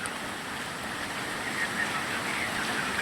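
A monsoon downpour falls in Gujarat as a steady, even hiss of rain that continues without a break.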